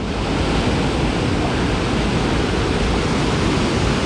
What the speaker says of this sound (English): And there's a creek right here.